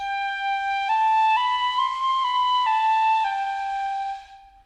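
A piccolo played with a beginner's unsteady tone, sustaining a few shifting high notes in a thin, breathy whistle-like sound for about four seconds before fading out, alone with no talk.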